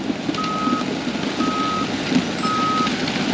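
A truck backing up sounds three evenly spaced reversing beeps over a steady engine rumble and background noise, fairly close.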